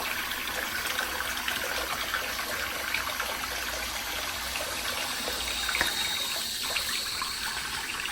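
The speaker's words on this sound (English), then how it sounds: "I'm about to put water and stuff all over my hands." Wet hands being rubbed together with water, giving a steady, continuous close-up splashing and swishing wash that holds an even level throughout, with no speech.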